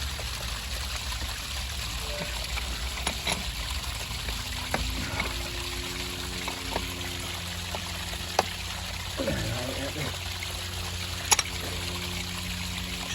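Water from a leaking pipe trickles steadily into a dug hole during a plumbing repair, a low continuous stream with a few faint clanks and no talking.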